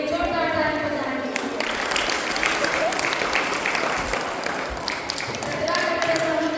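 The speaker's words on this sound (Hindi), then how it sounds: "इस सुंदर आखिरी बच्चे के लिए जोरदार ताली बजाएं।" Audience applause at a Class 8 farewell function at Deepak School in Korba, sustained crowd clapping throughout, fairly close and loud, with a voice and ringing tones heard over it at the start and end.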